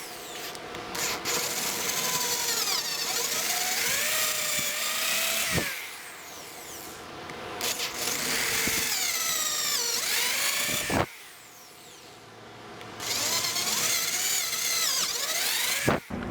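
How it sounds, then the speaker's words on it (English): Power drill boring tuner holes through the wooden neck of a cigar box guitar, several sustained whining bursts separated by brief pauses, close up and loud. "we got the holes for the tuners drilled out"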